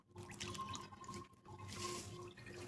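Liquid is poured over soaking tamarind pulp, a close trickling splash with a short break midway before the pour resumes, fairly quiet and without speech.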